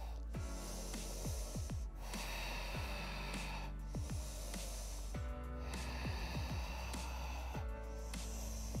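Slow, steady breathing in and out during a yoga session, audible as soft airy breaths that repeat over a constant low background hum, with no talking.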